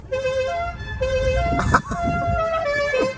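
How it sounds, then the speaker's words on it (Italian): A car horn honks in several sustained blasts with short gaps, loud and nearby, while someone talks over it and vehicle noise rumbles underneath. "La leva in su, fa il clacson"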